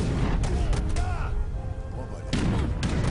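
Cannons fire in Age of Empires III, several heavy booms and thuds amid a busy battle mix, with a brief lull in the middle.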